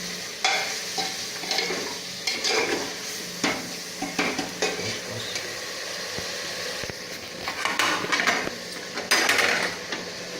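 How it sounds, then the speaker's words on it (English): Meat frying in ghee sizzles continuously while being stirred, with repeated scraping and clattering strokes of a utensil against the pot in an uneven rhythm, close and moderately loud. "The more you stir, the more it gets fried up"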